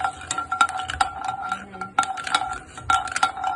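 A small cinnamon stick is dry-roasted in a pan, stirred with a metal spoon that scrapes and clinks against the pan in irregular bursts, close and fairly loud, with no speech.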